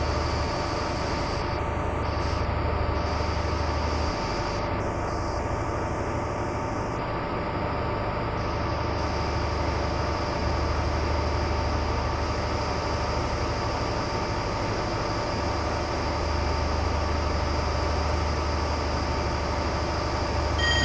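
A train running in Train Sim Classic, a steady rumble of wheels on track with low droning engine noise and faint high whines, continuous and moderately quiet throughout, with no talking.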